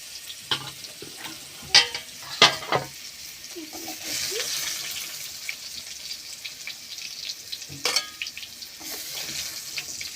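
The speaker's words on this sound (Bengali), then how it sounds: "আলু হেঁচড় খুব সুন্দরভাবে ভেজে নিয়েছি" Potato and young jackfruit frying in oil in a pan, a soft continuous sizzle broken by several sharp scraping clinks of a spatula stirring, close and fairly quiet, no one talking.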